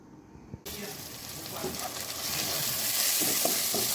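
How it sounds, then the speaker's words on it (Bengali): Rohu fish fries with garlic paste, turmeric, chili and salt in a home kitchen. A loud, dense sizzle bursts in suddenly and builds into a steady crackling hiss with occasional clinks of stirring, close up. "মাছ বোনা করতেছি রুই মাছ বোনা"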